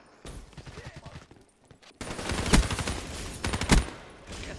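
Automatic gunfire rattles in Call of Duty Black Ops III during a Nuketown hardcore team deathmatch, with scattered shots and then loud, rapid bursts that peak twice near the end and stand alone without talk.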